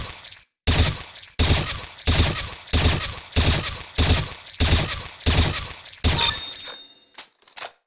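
Rapid three-round bursts from a rifle in CS:GO, sharp loud cracks in evenly spaced groups repeating about every half second, followed by a few scattered metallic clinks and a final isolated shot.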